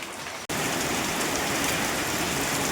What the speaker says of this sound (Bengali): খুব জোরে বৃষ্টি আসছে